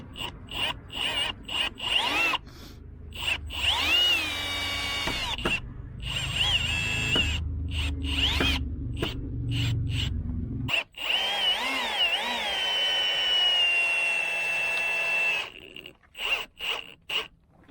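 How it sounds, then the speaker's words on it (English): A power drill drives screws into a wooden barn door, its motor whining in repeated bursts of varying length with brief pauses between, close and clear, and no talking. "I'm gonna clamp it together and then drive a couple screws in there to hold it"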